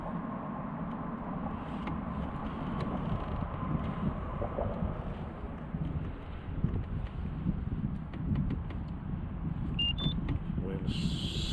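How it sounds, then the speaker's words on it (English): Steady wind noise buffets the microphone on open water during a canoe fishing outing, a broad continuous rumble with faint rustling and light clicks near the end. "Wind sucks."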